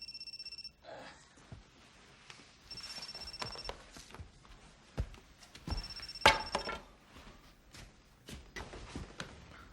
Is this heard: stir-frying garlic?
no